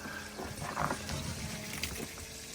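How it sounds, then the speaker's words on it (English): Water gurgles and rushes through the coolant lines of a Webasto heater installed in a skoolie bus, a steady close flow with small sloshing surges. "Definitely moving some water."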